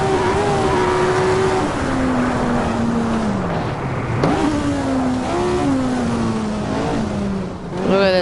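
Car engine in the Assetto Corsa driving game, loud and continuous, droning at steady revs then sagging, surging and shifting through several rises and falls with a rushing wind-like roar and no talking.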